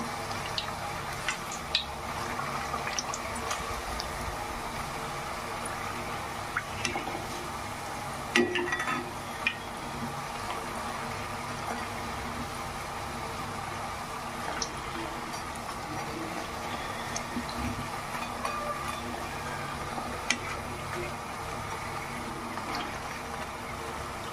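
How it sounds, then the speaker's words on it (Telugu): Sesame pappu chekkalu frying in oil, a steady faint sizzle and bubbling with occasional clinks and stirring sounds, continuous over a long stretch. "ఇదిగో ఇంకా అలా నూనెలో వేసాక మళ్ళీ తిప్పుకొని బాగా ఫ్రై చేసుకుందాం"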